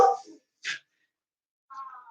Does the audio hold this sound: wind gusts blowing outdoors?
no